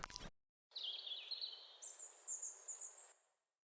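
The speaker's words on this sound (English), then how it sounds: "a little bit of ambience of these really cool birds in the background" A looped jungle ambience sample of exotic birds: high, chirping and trilling calls in a continuous rising-and-falling stream, moderately loud and heard alone after a brief burst of other sound.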